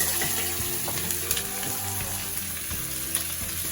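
Chopped onions fry in hot beef dripping in a pan for Scottish stovies, giving a steady, close, continuous sizzle with a few small pops and no talking.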